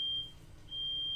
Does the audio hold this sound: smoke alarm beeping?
yes